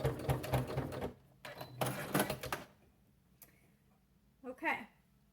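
A sewing machine back stitching through a stuffed toy runs in short mechanical bursts of rapid needle clatter, pausing between runs, with a brief voice near the end.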